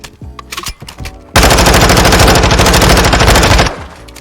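Call of Duty gameplay gunfire: a few scattered quieter shots, then a loud, rapid automatic burst of about two seconds that cuts off sharply.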